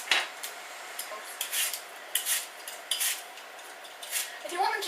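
Apples being peeled for an apple crumble, with a series of faint scraping, clinking strokes of a peeler or knife against the fruit, irregular and close, with light kitchen utensil sounds and no talk.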